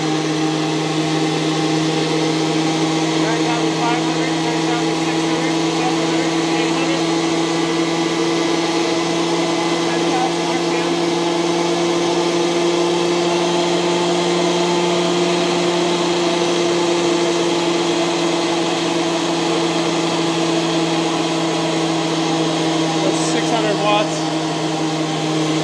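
A homemade, unbalanced Tesla turbine spinning at high speed, giving a loud, continuous whine with a steady hum and strong vibration, unbroken for the whole stretch with faint speech beneath.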